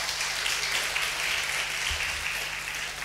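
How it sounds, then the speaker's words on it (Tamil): Audience clapping at a Tamil Catholic religious gathering, a dense steady wash of applause holding at even loudness throughout and briefly dipping near the end. "கைத்தட்டுங்க பார்ப்போம்."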